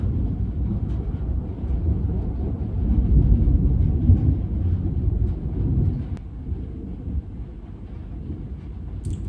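A low, continuous rumble of thunder from a storm rolls on for several seconds, swelling in the middle and fading slightly, like distant thunder, with no talking.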